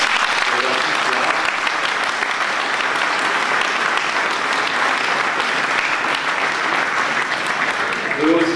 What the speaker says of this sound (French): Je crois qu'on peut les applaudir tous les trois.